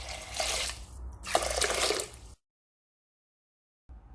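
Water poured into a cooking pot of rice, a close splashing pour lasting about two seconds, followed by silence and a brief final sound.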